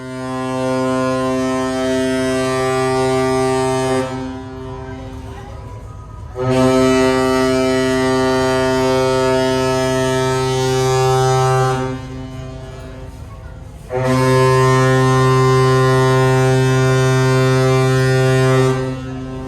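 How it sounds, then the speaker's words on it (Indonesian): A passenger ship's deep, loud, steady horn sounds at Makassar port before departure, with three long blasts separated by short gaps, each sustained for several seconds with a strong harmonic tone. "Ya, sudah klakson 3 kali"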